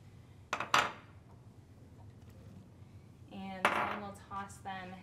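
Cut vegetables, mostly potatoes, being tossed and mixed in a bowl with a utensil, giving a couple of sharp clinks early, then a cluster of scraping, clattering knocks later, close and fairly loud.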